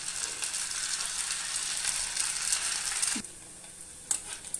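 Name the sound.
chhana (cottage cheese) balls frying in ghee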